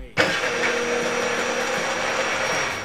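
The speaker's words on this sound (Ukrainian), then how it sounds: "Прийшов час діставати блендер." A kitchen blender switches on with a sudden start and runs steadily with a loud, continuous whirring drone, mixing oil, salt, pepper, garlic, mustard and lemon juice for a homemade sauce.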